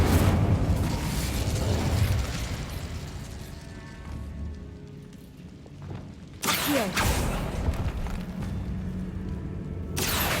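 Incendio fire spell cast in the Hogwarts Legacy video game: a burst of roaring, crackling flame with booming rumble, fading into quieter creaks before two more sharp fiery blasts erupt near the end.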